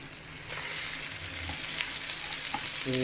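Shrimp sautéing in a hot pan gives a steady close sizzle with brief stirring scrapes, and a louder burst of frying near the end.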